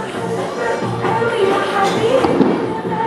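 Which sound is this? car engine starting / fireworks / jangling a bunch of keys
fireworks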